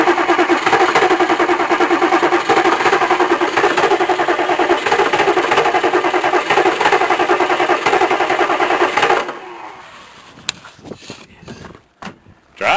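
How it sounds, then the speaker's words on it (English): A Chevrolet K3500 truck's starter cranks hard and continuously on a cold start, a loud, dense, rhythmic grinding lasting about nine seconds before cutting off into quieter clicks and rustles. "starter kept on turning"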